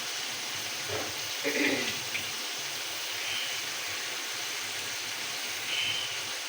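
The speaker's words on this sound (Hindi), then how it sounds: "अब मैं इसमें ना पानी डालती हूँ।" Water pours steadily into a cooking pot of chicken and peas to make stock for a matar pulao, a continuous close rushing hiss with slight surges in a home kitchen.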